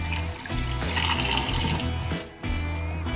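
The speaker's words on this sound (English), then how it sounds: "let's go dunk this in some water" A Yamaha snowmobile part is dunked into water, giving a continuous close-up slosh and gurgle with a brief dip near the end before the splashing resumes.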